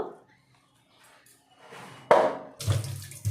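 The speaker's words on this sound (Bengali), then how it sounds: "ইলিশ মাছ পিস করে কাটা, তাকে ধুলে তার স্বাদ নষ্ট হয়ে যায়, সেই জন্য গোটা আমরা ধুয়ে নেব।" Running water from a tap splashes over a whole hilsa fish in a sink, coming in uneven bursts and spatters between quieter moments, with a voice talking faintly in between.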